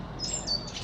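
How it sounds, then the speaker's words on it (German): Small birds give thin, high scolding chirps, two brief calls over a steady outdoor background while a jay eats a small bird nearby. "Alle anderen Vögel schimpfen hier."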